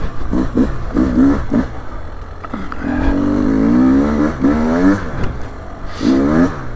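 A 2024 Beta 300 Race Edition two-stroke dirt bike engine burbling at low RPM on slippery wooded trail, a close, steady, rumbling putter with small throttle rises and dips.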